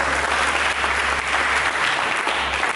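Church congregation applauding during a worship service, a thick, continuous roar of clapping that stays loud and even throughout the brief moment.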